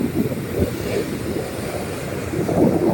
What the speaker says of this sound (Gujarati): આ માંગરોળનો દરિયો છે જો બોટો પણ દેખાય છે